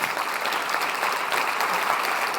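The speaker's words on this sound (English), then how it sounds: "Can we get a big round of applause" At the high-level opening of an EU climate and health conference, an audience applauds a minister, a full, even roar of many hands clapping continuously throughout.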